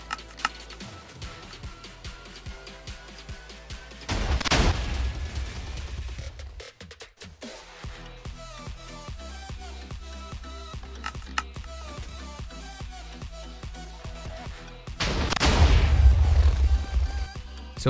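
A Minecraft TNT cannon fires in a faction raid. Two heavy booming blasts, one early and one near the end, stand out over a constant stream of rapid game clicks and small pops.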